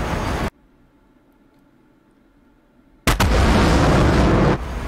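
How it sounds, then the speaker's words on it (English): A missile launch in the DCS flight simulator comes in abruptly after near silence as a loud, broad rushing roar. The roar holds steady for about a second and a half, then drops away. "Missile fired."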